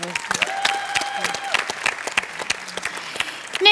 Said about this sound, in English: Round of applause for Ngahuia.